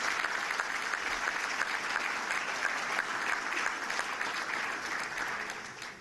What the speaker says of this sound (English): Let's have a real round of applause for Howie.